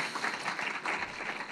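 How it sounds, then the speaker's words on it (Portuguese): Applause from an auditorium audience thanking two speakers at a presentation event, a brief, even patter of many hands clapping, moderately distant and soft. "nós agradecemos com os nossos aplausos ao Pablo Regalado e Marcos Palomino"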